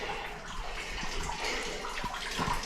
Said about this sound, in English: That's where the water's coming out of it right there